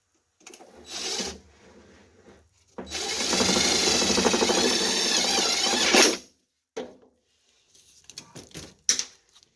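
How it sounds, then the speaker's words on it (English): Clamps come off a wooden bird bath form with close scraping and rasping slides, including one long grinding pull of about three seconds, then a few short knocks and clunks. "Just take a few clamps at a time off."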